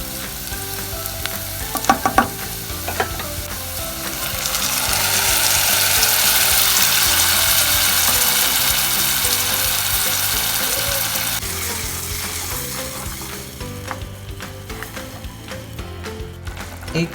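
Onions and capsicum sizzling in a pan as tomato puree goes in for pink sauce pasta, a loud steady frying hiss that swells, then fades into gentler bubbling with stirring clinks.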